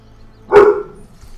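A dog in the video game Stronghold Crusader 2 gives a single short, sharp bark, close and loud against a quiet background.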